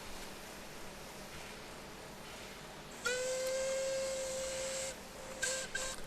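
Steam locomotive whistle in Train Simulator 2020 on a summer steam gala route in the north of Scotland: after quiet rumbling, one clear sustained whistle blast sounds for about two seconds, followed by two short toots.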